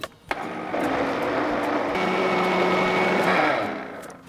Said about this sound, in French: Notre lentille est cuit. On va venir mixer.